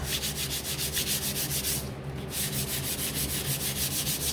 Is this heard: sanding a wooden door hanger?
yes